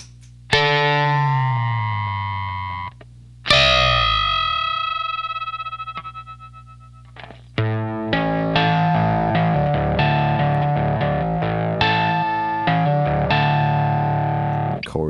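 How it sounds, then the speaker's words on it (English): Guitar double stops run through a Johnny Octave pedal, producing thick, warbling, strange-sounding intervals. A few long ringing notes give way to faster, busier strummed passages, loud and close. "But with the Johnny Octave, all kinds of strange things happen."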